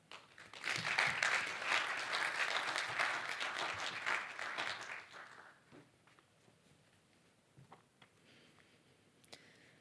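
Audience at an Adelaide Law School evening talk on LGBTIQA+ legal progress applauding to welcome a speaker, a full burst of clapping that fades after about five seconds into scattered claps and quiet room noise.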